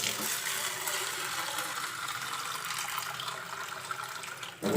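Water poured steadily over food being set to soak for cooking in a home kitchen, a continuous close splashing stream that runs for several seconds, then stops with a brief clatter at the end.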